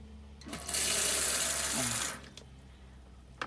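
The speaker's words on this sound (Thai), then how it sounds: "อาบน้ำก็เป็นฝักบัวครับ ฝักบัว" Water from a shower head in a small home bathroom gushes in a steady stream for about a second and a half, then cuts off, followed by faint drips and quiet knocks.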